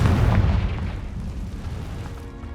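Confringo spell blast in the Hogwarts Legacy video game: a loud, deep booming explosion at the start that rumbles and slowly fades over a couple of seconds, with no speech.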